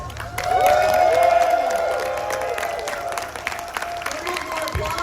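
A convention crowd at a horror fan event in Atlanta applauds and cheers for the Aliens panel cast: dense, steady clapping with whoops and shouted voices on top, loudest early and then holding strong for several seconds.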